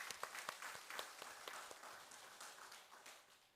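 Congregation clapping during a Sunday church service, a burst of applause with a few distinct louder claps at first, then a softer, thinning patter that fades out, heard at a distance in a reverberant hall.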